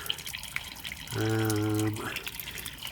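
Water spurts and gushes from an Aquamax G205 mixer valve after its spindle is removed, a brief steady rush lasting under a second amid faint background noise and dripping.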